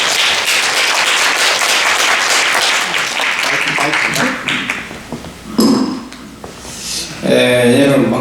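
Audience applause at a Korean ceremony, the opening of a Yun Dong-ju literature and arts festival, a dense sustained clapping wash that thins toward the end, with brief louder bursts and a voice coming in near the close.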